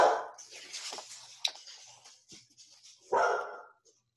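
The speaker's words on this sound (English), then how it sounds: "barking dog" Dog barking indoors, with a couple of sharp, fairly close barks at the start and again near the end, separated by quieter scuffling sounds.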